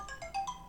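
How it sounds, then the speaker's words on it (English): A phone alarm rings in quick repeating tonal beeps, four short bursts in under a second, moderately loud and close, with no talking over it. "That's my alarm."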